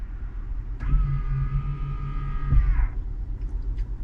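The electric side mirrors of a Tesla Model 3 fold in, a smooth motor whine lasting about two seconds that ends in a soft thunk, close by over a low cabin rumble.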